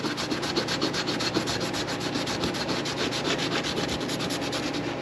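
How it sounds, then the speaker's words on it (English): Close, steady rubbing and scrubbing of Honda CB125 cafe racer motorcycle parts with brake cleaner and a Scotch-Brite pad, a continuous abrasive swishing with a quick repeating back-and-forth rhythm throughout, no talking. "We're going to clean these up. Little brake clean. And Scotch Brite."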